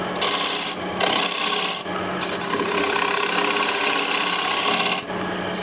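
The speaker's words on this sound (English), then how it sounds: "Now with a shear scraper I'm just going to" A shear scraper smooths a wooden bowl spinning on a lathe, making a loud, steady rasping scrape that runs almost continuously with brief dips as the tool lifts.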